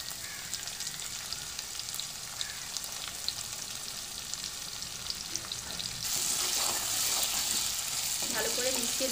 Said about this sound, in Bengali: পেঁয়াজটা দিয়ে পেঁয়াজটা ভালো করে ভেজে নিয়েছি